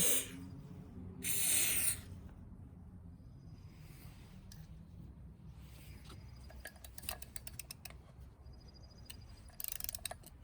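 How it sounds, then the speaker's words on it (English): Short bursts of aerosol oil spray hiss out into a 25hp Johnson two-stroke outboard, one strong blast early and lighter spurts later, with faint clicks and rustling in a quiet room. "I'm gonna spray a little more oil in there"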